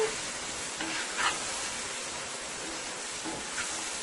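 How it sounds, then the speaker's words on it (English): Shrimp frying on high heat with onion and garlic in an open pot, giving a steady close sizzle with a few louder stirring clinks and scrapes. "let your shrimp fry nicely with the onion, the garlic"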